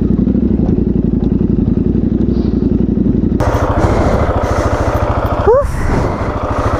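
A KTM 690 Enduro R single-cylinder motorcycle rides off-road over rough ground, its engine thumping steadily and close, with a brief rise in revs near the end and a voice talking briefly over it.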